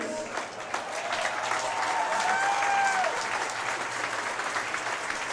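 A crowd at a 2017 Major Series Lacrosse final between Peterborough and Six Nations applauds steadily from a distance, with sustained clapping filling the arena and a few faint shouts.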